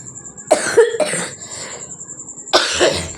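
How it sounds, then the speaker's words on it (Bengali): A woman with a persistent dry, tickly cough gives three sharp, close cough bursts in two clusters with a short pause between, with no talk. "এদিকে প্রচণ্ড কাশি হয়েছে এডিট করতেই পাচ্ছি না খুশখুশি কাশি হয়েছে"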